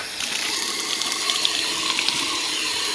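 Water streams steadily into a metal pot, a constant close splashing rush with faint clinks and gurgles, no voices.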